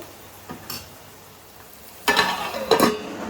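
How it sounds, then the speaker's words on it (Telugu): Eggs and drumstick curry fry in a pan, quiet at first with a faint scrape, then a loud sizzle and stirring clatter in two strong bursts. "ఇదైతే వేగుతుంది వేగాలి కొంచెం"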